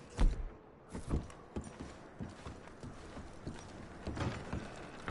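Horses in a video game shift and step with soft, irregular clip-clop hoofbeats and a few thumps, faint and mid-distance, with no talking over them.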